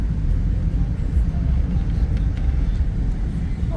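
A car engine climbs uphill just after a gear change on a road trip through Provence, a steady low rumble and drone holding loud and continuous throughout, with no clear speech over it.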